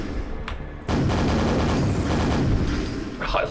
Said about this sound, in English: Oh, me and the nail gun are gonna be best friends.